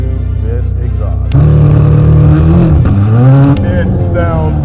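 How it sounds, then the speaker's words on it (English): A Chevrolet Corvette C8 Z06 with an AWE exhaust idles loudly up close, then its engine note jumps and rises in pitch through a sustained rev before settling back down. "Now I want you to listen to this exhaust."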